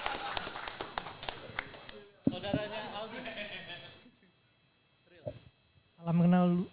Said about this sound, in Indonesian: Boleh tepuk tangan buat Bang Ahmad